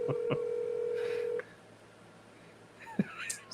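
Telephone keypad dialing tones, a few short beeps followed by a long steady tone, then quieter background with a brief voice near the end.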